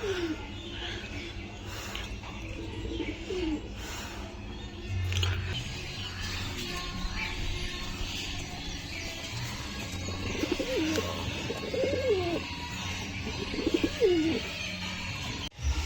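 Pigeons coo softly in a coop, several low rolling coos repeating in the latter half over a background of rustling, scratching and faint chirps, close by and moderately quiet.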